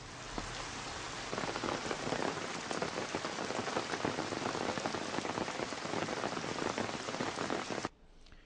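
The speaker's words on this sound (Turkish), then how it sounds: "Taraklı'da cumartesi günü sabah saatlerinde etkili olan sağanak yağmur cumartesi günleri kurulan halk pazarını ve yöresel ürün pazarını olumsuz etkiledi." Heavy downpour pelting a Saturday open-air market in Taraklı, a loud, dense, steady hiss of rain beating on surfaces that cuts off abruptly near the end.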